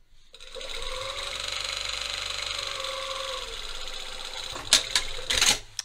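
Sewing machine running a steady continuous stitch down the side seam of track pants shorts, a sustained close whir for several seconds, then a few sharp clunks as the stitching stops, with no talking.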